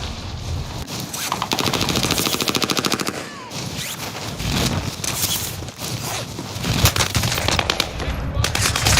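Loud, close automatic gunfire in the video game Call of Duty Warzone: long rapid machine-gun bursts mixed with single shots and game effects, nearly continuous and dense from start to finish.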